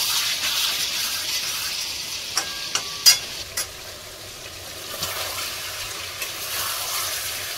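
Potatoes and chicken sautéed together in a pot for biryani, a steady low sizzle and frying hiss with a few light clinks of a spoon stirring against the pan.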